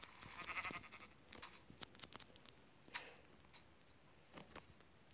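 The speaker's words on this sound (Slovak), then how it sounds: "Ovečko, poď sem." A sheep bleats faintly in the Minecraft video game, a soft wavering call near the start followed by scattered light clicks and patter in a quiet background, with no talking.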